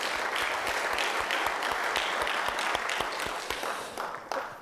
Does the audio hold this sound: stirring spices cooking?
no